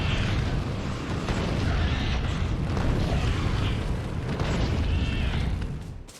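Explosive shells fired from a tank in Factorio burst in a dense, continuous barrage of booming blasts, loud and close, rolling without pause before fading at the end.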